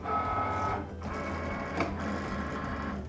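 A Cricut cutting machine whirs steadily as its rollers draw a cutting mat in, a continuous motorized hum with a brief dip and a small click partway through, close and alone.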